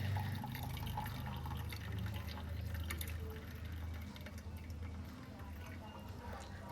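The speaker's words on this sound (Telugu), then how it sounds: "ఇక్కడ వాటర్ అంతా సపరేట్ చేసుకుంటున్నాం కదా వేరే గిన్నెలోకి." Cooking water drained off boiled vegetables into a separate pot, a soft trickling and dripping pour heard faintly under a person talking.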